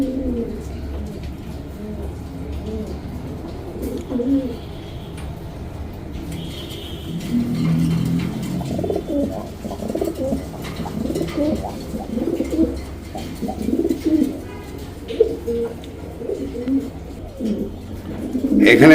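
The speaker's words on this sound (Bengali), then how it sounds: "এখানে একজোড়া গলা কষা চুইটাল গিরিবাজ কবুতর দেখতে পাচ্ছেন" Giribaz pigeons coo in low, throaty, repeating calls at close range, with a faint car hum behind.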